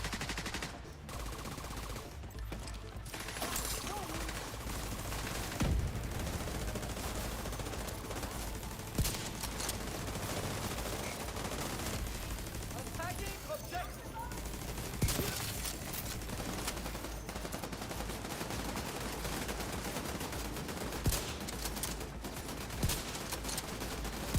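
Gunfire from a large-magazine SRS in The Division 2, fired on the move in repeated bursts and single cracks over a dense, loud game mix of shots, impacts and mechanical noise, with no talking.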